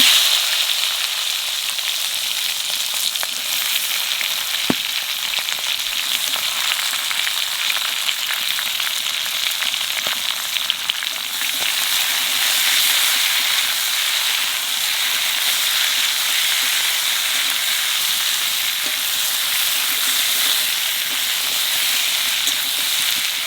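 Star fruit frying in hot oil with whole mustard seeds and dried red chili gives a loud, steady, dense sizzle that holds unbroken for over twenty seconds, close up and with no voices.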